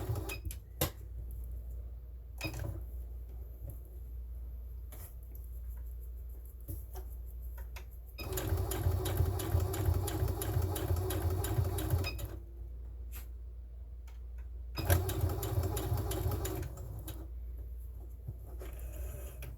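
Sewing machine stitching party bunting fabric, short bursts of rapid mechanical whirring close by, separated by quieter pauses with light handling clicks.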